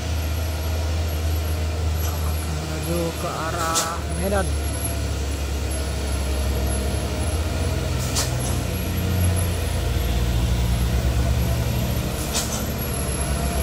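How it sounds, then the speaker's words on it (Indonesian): A tanker truck labouring up a steep road, its heavy diesel engine droning low and steady with a brief air-brake hiss and passing horns, while someone talks over it. "truk tangki"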